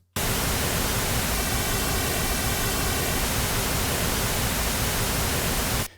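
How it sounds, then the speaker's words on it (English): Steady broadband white noise and pink noise play together at a constant level around -25 LUFS, starting abruptly and stopping abruptly after about six seconds. "Let me add a pink noise along with that at minus 25 LUFS."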